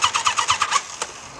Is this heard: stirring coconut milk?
no